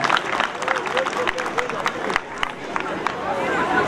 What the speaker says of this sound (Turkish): Alkış ediyoruz, alkışlıyoruz.